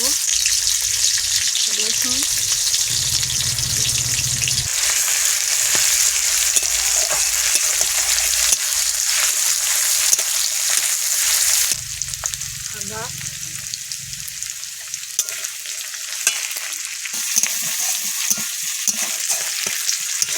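Oil sizzling and frying hard in a wok for chicken ghugni, a loud, continuous crackling hiss close by, with brief stirring and talking beneath it.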